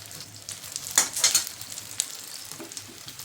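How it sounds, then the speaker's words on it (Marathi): Oil sizzling under a pumpkin or sweet potato thalipeeth on a pan, a soft continuous fry with a few brief bright crackles near the start. "थोडंसं तेल टाकायचे"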